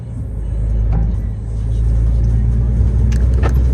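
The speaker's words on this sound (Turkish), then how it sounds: "araba değil de tır geliyordu işte" A heavy truck passes on a road while driving toward Romania, heard as a loud, steady low rumble and engine drone that swells slightly and holds through the few seconds, with no voices.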